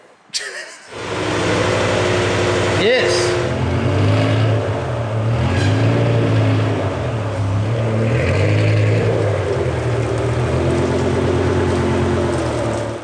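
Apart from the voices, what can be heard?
BMW E60 M5 doing a burnout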